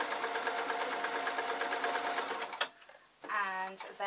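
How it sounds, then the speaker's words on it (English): A sewing machine stitches a seam through two layers of fabric, a steady close whirring chatter that stops briefly and starts again at a slower pace. "I'm going to sew along there"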